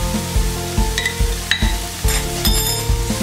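Onions sizzle steadily in a hot pan for veggie masala Maggi, a loud continuous frying hiss, with regular stirring scrapes and taps of a utensil against the pan about every half second.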